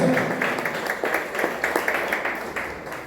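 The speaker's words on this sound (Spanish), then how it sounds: "Dale un aplauso." A church congregation applauds during a sermon on faith, with a run of sparse, rhythmic hand claps rising and falling at moderate loudness in a reverberant hall.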